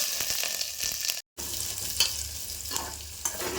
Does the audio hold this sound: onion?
yes